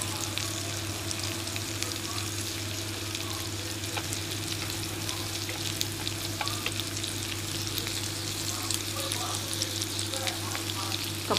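Pork belly and enoki mushrooms sizzle continuously on a Thai moo kata grill pan, a dense, close frying hiss with small pops and a low steady hum beneath.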